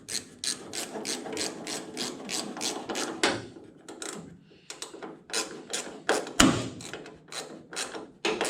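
A socket ratchet clicks in quick, regular strokes up close while tightening a bolt during a tail light installation. There are two runs of ratcheting with a short pause and a sharp knock between them.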